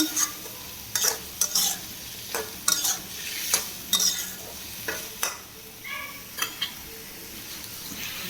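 Potatoes sautéing in a pan, a soft steady sizzle punctuated by a dozen sharp spatula scrapes and knocks against the metal, close and without talk.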